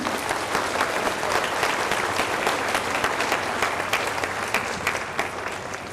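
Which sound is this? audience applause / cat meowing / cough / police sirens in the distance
audience applause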